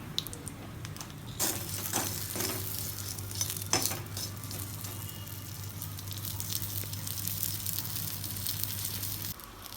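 Drumsticks with turmeric and salt sizzle in hot oil while a utensil stirs and scrapes the pan, with occasional sharp clicks over the steady frying.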